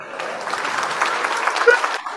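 Canned applause sound effect set off by a button on a bass players' show, a steady burst of clapping lasting about two seconds that stops abruptly.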